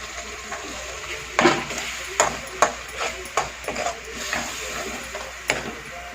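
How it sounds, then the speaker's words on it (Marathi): Ground masala paste with mutton is stirred and fried in a pan. Sharp, irregular metallic clinks of a spoon on the pan sound over a low, quiet sizzle. "हे 2च मिनटं परतून घ्यायचं, जास्त ठेवायचं नाही"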